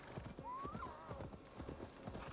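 Horse hooves clip-clop steadily in Assassin's Creed Valhalla, with a clear rising whinny from the horse early on over the hoofbeats.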